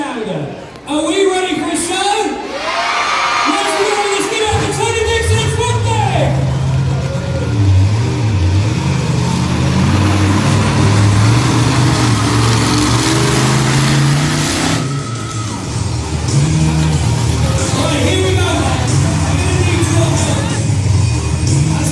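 A monster truck engine revs and roars at a truck show in Peterborough, loud and continuous with rising and falling pitch, while a voice talks over it and a crowd murmurs.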